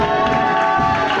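A church congregation cheers and acclaims God: a brief burst of crowd shouting and excited voices, loud and dense throughout.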